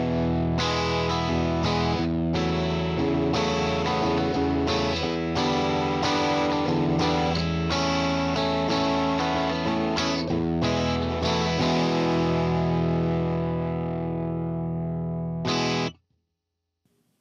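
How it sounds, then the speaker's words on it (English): Electric guitar played through amp models only, with all effects switched off, on a Fender Tone Master Pro in a stereo setup; sustained distorted chords ring loudly and steadily with brief pauses before a sudden stop near the end. "So this is what it sounds like with just the amps and none of the effects on."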